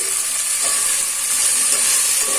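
Carrot and bean pieces frying in a pan for coconut rice, a steady, close sizzle and hiss that stays even throughout, with no voices.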